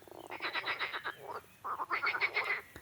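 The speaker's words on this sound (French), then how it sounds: "les grenouilles chantent de plus belle" Frogs croaking by a stream at night, a close chorus of rapid rattling croaks in two bursts separated by a short pause, with no voices.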